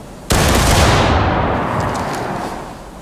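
A massed musket volley in War of Rights during a 4th New Jersey drill crashes out at once, a loud, dense roar that rolls and slowly decays over a few seconds.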